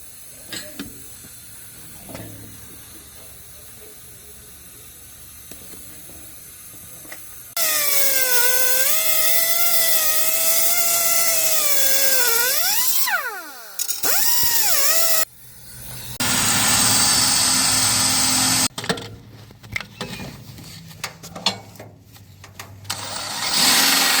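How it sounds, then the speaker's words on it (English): A power drill bores out a pin on a Ford NAA Jubilee tractor in loud close bursts, the motor whining and shifting pitch under load, stopping and restarting several times with brief pauses between runs. "pin drilled out of there"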